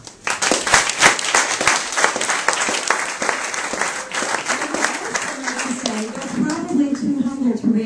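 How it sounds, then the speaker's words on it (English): An audience at a political event bursts into loud, sustained applause, with dense overlapping claps that gradually thin out and soften toward the end while a few voices murmur underneath. "Please give yourselves a round of applause"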